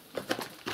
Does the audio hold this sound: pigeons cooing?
yes